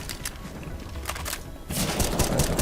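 Rapid bursts of gunfire in a Counter-Strike: Global Offensive deathmatch, dense overlapping shots that pause briefly and then return louder and heavier near the end.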